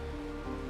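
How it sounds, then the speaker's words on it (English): Rain falls steadily in the Honkai Star Rail video game, a soft, even patter that stays faint and continuous across a brief moment. "This is the sound of rain."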